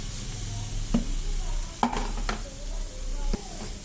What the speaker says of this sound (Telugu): క్యారెట్ తురిమేసి బాగా కలుపుకుందాం